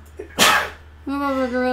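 A single sharp, loud sneeze bursts out close by, with a person talking just before and just after it.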